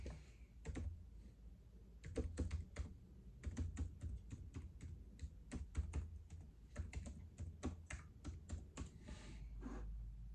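Steady rapid typing on a mechanical keyboard, with dense clicky keystrokes in irregular bursts, close and clear, with no voices.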